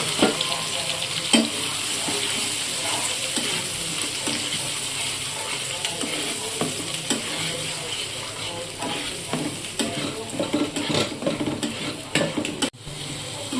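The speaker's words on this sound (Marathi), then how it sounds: "आता तेल टाकलं ह्याच्यात। आता राई जिरे टाकूया, थोडी कढीपत्ता" Mustard seeds, cumin and curry leaves sizzling in hot oil for a paneer curry, a constant crackling fry with scattered pops and spoon scrapes, plus faint background clatter.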